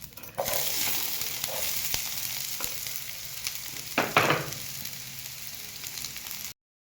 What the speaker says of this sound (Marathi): इथं आपण थोडंसं तेल टाकूया आणि कांदा आणि टमॅटो पण फ्राय करून घेऊया